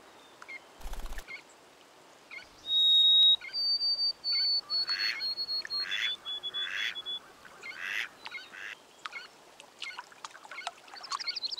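A wild mallard duck calls with a series of short nasal quacks and honks at moderate distance in an outdoor wilderness setting, over a faint ambient hiss.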